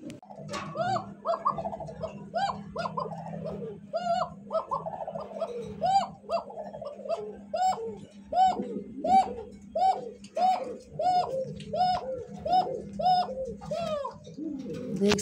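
Fancy pigeons cooing in a loft, a steady run of repeated rolling coos from several birds close by, with a low hum beneath and faint talk now and then.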